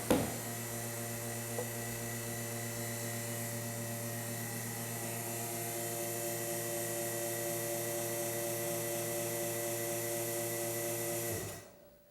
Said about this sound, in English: There it is, all sucked down and the pump is shut off.